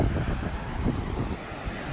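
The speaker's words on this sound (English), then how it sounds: "Well, she's a bit breezy." Steady wind blowing across a remote coastal island beach, a broad continuous rush with gusty fluctuations and possible surf beneath, fairly close and even throughout with no talking.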